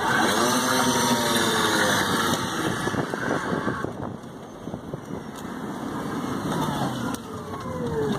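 An electric Honda CRX accelerating at full throttle from a start, a rising whine layered with harmonic tones, rough tire-spin roar and wind buffeting on the microphone, loud and close throughout.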